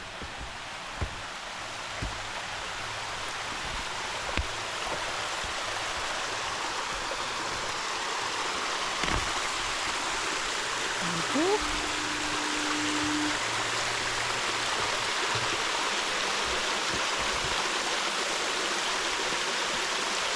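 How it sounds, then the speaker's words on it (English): Waterfall on Grand Manan Island, New Brunswick, during a hike: a steady, full rush of falling water that holds unbroken for the whole stretch, close and even, with no voices. "Nice waterfall."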